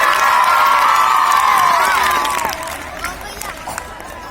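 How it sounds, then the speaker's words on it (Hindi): A crowd at a Hindi comedy poetry recital breaks into loud cheering and clapping after a comic poem ends, a dense roar of whoops and applause that gradually fades. "बजा दो ताली"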